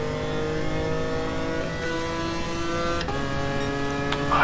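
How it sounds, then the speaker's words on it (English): A race car engine in Gran Turismo Sport holds a steady, loud mid-pitched drone and then revs, with brief tonal shifts near the end and no voices. "It doesn't sound very good in this game, I must say. Although, I guess it's not a great sounding car"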